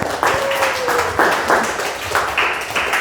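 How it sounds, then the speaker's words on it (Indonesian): A class group applauds a presenting group in a classroom teaching session, steady clapping from many hands filling the room, with a faint voice briefly heard over it. "Tepuk tangan dulu untuk kelompok 3."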